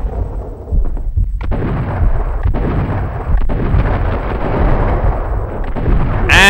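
A loud video-game grenade explosion booms and rumbles, followed by a sustained roar of blasts and gunfire-like crackle, with no talking.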